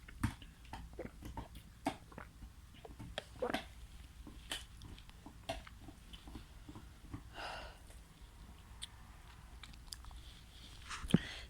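A dog chews a Nature's Own dried raw jumbo 18-inch odour-free bully stick at close range, with irregular wet gnawing, crunchy bites and snorting breaths running throughout, and a few sharper clicks scattered across the clip.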